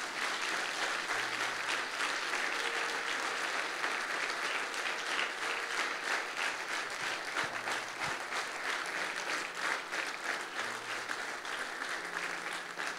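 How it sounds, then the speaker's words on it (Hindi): A congregation at a church service claps loudly and continuously, a sustained dense roar of hands with a few faint low tones underneath. "जोरदार तालियों के साथ कि खुदावंद यीशु मसीह मेरा ईमान है"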